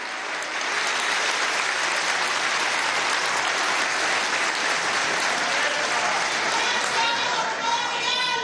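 A large crowd at an international workers' gathering breaks into sustained, dense applause that holds at a steady loud level throughout, with a faint rhythmic cheering or chanting texture emerging near the end.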